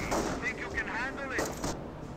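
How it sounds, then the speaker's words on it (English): Bursts of gunfire and explosive booms in the game Company of Heroes crackle over a busy battle soundscape, with voices calling out in the mix. "Incoming gunfire."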